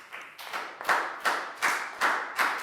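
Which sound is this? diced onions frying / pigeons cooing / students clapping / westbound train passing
students clapping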